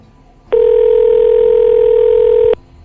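A telephone call tone plays as a single steady, loud electronic beep lasting about two seconds, starting and stopping abruptly against near silence.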